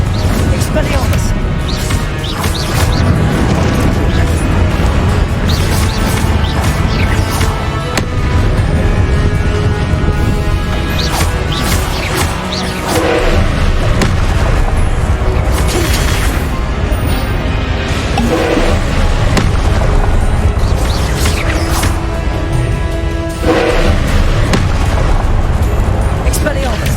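Loud, continuous spell blasts and explosive booms from the Confringo curse in Hogwarts Legacy, rolling one after another with a dense rumbling backdrop and game music layered throughout.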